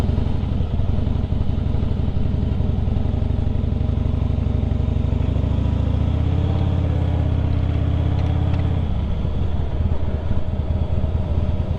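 A 2007 Harley Davidson Softail Deluxe rumbles steadily while being ridden, its loud, close engine drone holding constant with a brief lift in revs partway through and no talking.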